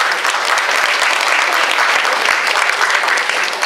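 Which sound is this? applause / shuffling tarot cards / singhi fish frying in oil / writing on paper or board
applause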